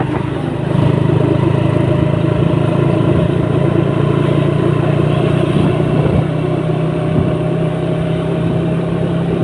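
A Rossi 1000cc motorcycle running steadily while ridden on the road, its engine drone loud and continuous throughout with a low hum and some wind rumble.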